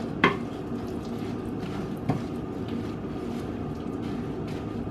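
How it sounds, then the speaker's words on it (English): Oats and nuts being stirred together for granola, a soft continuous scraping and rustle in a bowl with two sharp knocks of the spoon against the side, close and quiet, no voices. "So go ahead and give that a nice stir."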